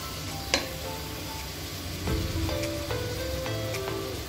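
Sliced onion drops into hot oil and sizzles in a pan while cooking mutton rava biriyani, a soft steady frying hiss with a small splash near the start and a few light stirring clinks, no voices.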